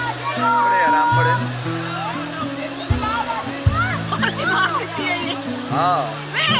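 Sajjikot waterfall near Havelian, Abbottabad, pours in a steady broadband rush, with music and voices of visitors layered over the water throughout.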